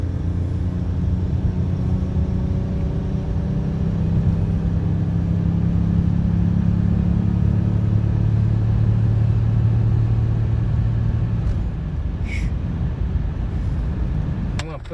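A BMW 750iL E32 sedan cruises with a loud, steady engine drone and road rumble while its automatic transmission hesitates before shifting roughly. Near the end the engine note drops and there is a faint clunk.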